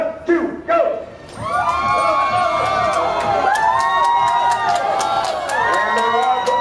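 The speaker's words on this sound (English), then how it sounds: "We're going to cheer him on out there all the way up to the top and all the way back down" A loud outdoor crowd cheers and whoops for a speed climber at a show on an Alaska cruise stop, with sustained shouting and rising whistles filling the whole stretch after a brief announcer's voice at the start.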